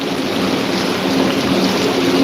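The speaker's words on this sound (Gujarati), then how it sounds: "વરસાદ ચાલુ છે સારામાં સારો વરસાદ પડે" Dense, steady torrential rain pours down in Jamkandorna in a continuous hiss, with a low rumble that could be distant thunder beneath it.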